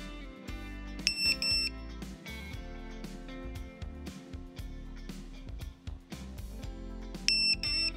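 A Vifly Beacon buzzer on a drone sounds its alarm, loud piercing electronic beeps and warbling tones pulsing in a rapid, irregular pattern, close by and without talk.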